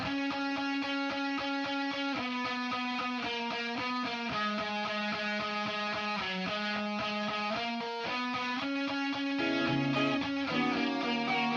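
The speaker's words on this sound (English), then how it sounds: "And then the guitar fuzz, it's I think I just freestyled the guitar fuzz for this one." Freestyled electric guitar through heavy fuzz distortion, playing sustained, saturated notes and short phrases that shift in pitch, loud and continuous with no voices.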